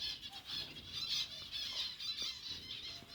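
A bulbul in an aviary alongside royal pigeons gives faint, busy chattering and squawking calls that run continuously over soft background noise.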